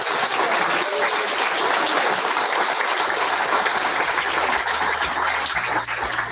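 Sustained, loud crowd applause for the event teams at the close of the third Chase by Steeple, a steady unbroken wash of clapping and cheering that holds at full level throughout.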